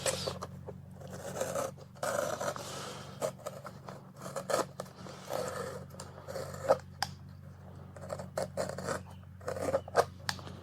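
Silicone hose on a 3RZ turbo build is cut at a slight angle, producing repeated close, quiet snipping and rasping cuts in short bursts with brief pauses between them.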